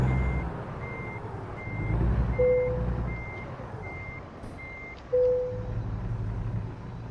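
In American Truck Simulator, a steady series of truck reversing beeps sounds over a low truck engine rumble, with a short hiss of air brakes partway through.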